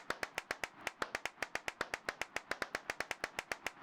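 Rapid, evenly spaced hand claps from a single clapper in a horror game that counts claps, about seven sharp claps a second, quiet and alone with no talk.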